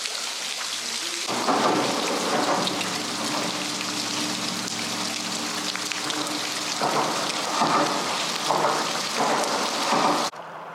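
Heavy rain pours down steadily, a dense hiss close by, with low rumbling thunder rolling underneath for most of the stretch.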